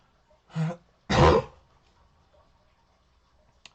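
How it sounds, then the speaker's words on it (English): Two short coughs close to the microphone, the second louder and throatier, followed by near silence with a faint click at the end. "Excuse me for the cough."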